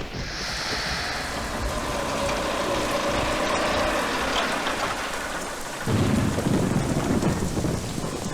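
Heavy rain pours down steadily with thunder rumbling through it, and a louder, denser burst of rain or thunder swells near the end. No one speaks.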